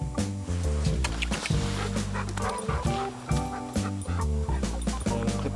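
Dog barking and whining in an excited, repeated burst of yips and whimpers while being clipped into a bikejoring tug line, loud and close throughout.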